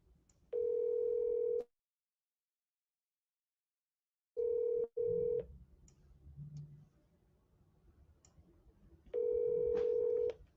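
A telephone number is keyed in as a steady, loud dial tone, then a silent pause, then clicks and short tones, with low room noise before the tone returns at the end.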